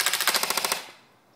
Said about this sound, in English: It also has a automatic version where it shoots a lot faster.